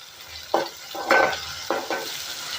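Dried bagi fish stirred and sautéed in a pan: three short scraping, sizzling bursts as the spoon moves it around, close and fairly quiet, with no talking.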